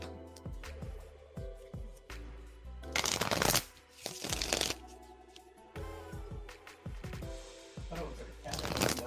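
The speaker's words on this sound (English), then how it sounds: "Shuffling for you now" Tarot cards being shuffled by hand, bursts of riffling and flicking repeating every couple of seconds, close and fairly loud, with soft handling sounds between them.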